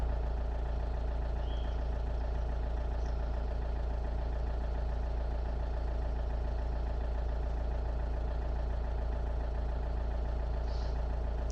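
A car engine idles steadily with a constant low rumble and even mechanical hum, running alone without pauses or talk.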